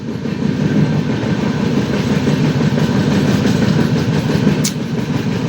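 Passenger train running from Kollam to Coimbatore near Valayar station, a steady loud rumble of wheels on rails with faint clickety-clack throughout, no voices.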